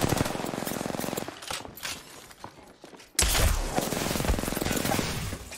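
Rapid automatic gunfire in the video game Apex Legends, a dense burst of loud shots, a brief lull with scattered fainter firing, then another intense close barrage.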